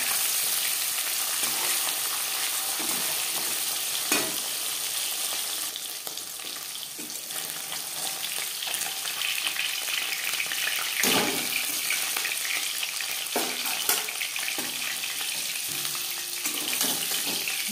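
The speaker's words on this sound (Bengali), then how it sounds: "মাছ ভাজা হয়ে গেছে" Katla fish fries in a hot pan with a steady, dense sizzle and crackle that holds throughout at close range, with brief bursts of louder spattering and no voices.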